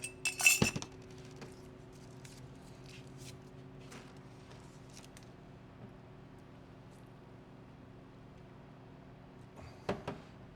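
An orange wedge dropped into a honey whiskey cocktail glass lands with a quick clink and rattle. Quiet stillness follows, then another short clink of glassware near the end.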